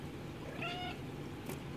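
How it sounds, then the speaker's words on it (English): A house cat gives a single short, faint meow over a steady background hiss, followed by a brief soft rustle. "the cat wants to be in the video."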